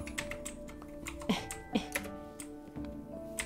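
Someone types on a computer keyboard with quick, uneven, close key clicks and a few louder taps over soft background music.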